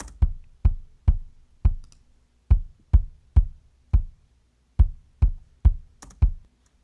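Kick drum hits from an EQ'd drum bus in Logic, with low subs rolled off and a boost near the bottom end, play back as a sparse pattern of about a dozen punchy, dry thumps in small clustered groups.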